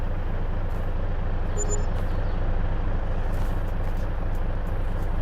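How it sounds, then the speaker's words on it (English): A truck engine in Farming Simulator 22 holds a steady, loud low drone throughout, with a faint short beep early on and no speech. "Is my truck too loud?"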